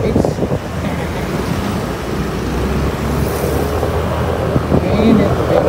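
Steady wind rushes and buffets against the microphone in a continuous broadband roar during a family ride to Malico, San Nicolas, Pangasinan, with a faint voice underneath.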